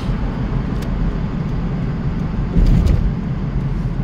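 Road traffic in Abu Dhabi rumbles steadily with a continuous low engine drone, and a nearby vehicle passes a little louder partway through, with no talk heard.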